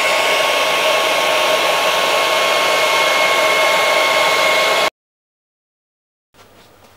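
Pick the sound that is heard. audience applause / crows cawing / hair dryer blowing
hair dryer blowing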